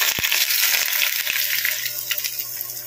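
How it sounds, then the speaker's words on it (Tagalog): Heated cooking oil poured over steamed pompano topped with spring onion, giving a loud, steady crackling sizzle that runs for a few seconds with a sharp pop near the start. "Saka ko po guys ibuhos yung ating ininit na cooking oil"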